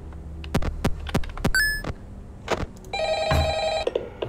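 Telephone ringing in the horror video game FNAF: Ultimate Custom Night, a bright electronic ring bursting out among a series of sharp thumping knocks and clicks, loud and close with no speech.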